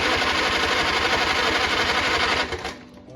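Engine of a 1949 Farmall Cub tractor cranking over on the starter during a compression check, a rapid rhythmic chugging whir that runs steadily and then winds down and stops.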